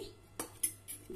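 A metal pan is set down on a kitchen stove before tempering spices, giving three or four light clinks and knocks in quick succession, close but quiet, with no talk.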